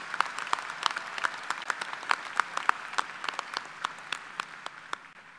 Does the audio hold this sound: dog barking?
no